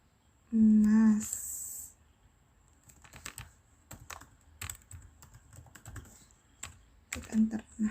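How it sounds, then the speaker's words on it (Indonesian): Typing on a computer keyboard with an Enter key press, scattered clicking keystrokes spread over several seconds after a loud opening burst, close and fairly quiet with no talk. "Klik enter."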